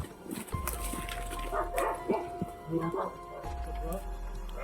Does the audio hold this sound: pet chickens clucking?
no